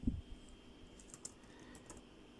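Typing on a computer keyboard, a short run of close, soft key taps at an uneven pace, starting with a louder thump, heard alone.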